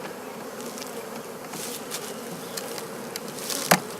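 A close, steady hum of honeybees fills the air during a spring hive inspection, with individual bees droning louder as they pass near. A sharp tap or knock sounds near the end.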